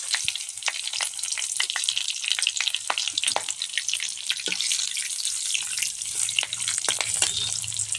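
Whole spices, green chili and ginger sizzle in hot oil in a home kitchen, a steady crackling fry with scattered sharp pops throughout, close and fairly loud, with no voices.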